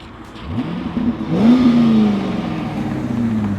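Loud and close, a 2001 Chevrolet Corvette C5 engine builds in a rising rev during a flyby, peaks, then holds a sustained throaty tone as the car moves on.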